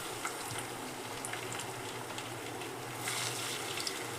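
Chopped onion frying in hot oil for a homemade chicken curry, a steady dense hiss holding throughout with faint crackles, swelling briefly toward the end.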